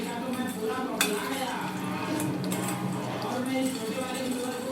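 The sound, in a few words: stirring french fries with a spoon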